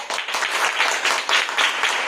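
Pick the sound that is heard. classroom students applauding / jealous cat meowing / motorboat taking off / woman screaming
classroom students applauding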